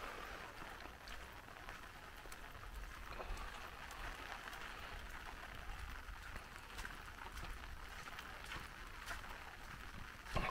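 Light rain falls steadily during a morning walk in Maspalomas, Gran Canaria, a faint, even hiss of drops with soft patter and no breaks.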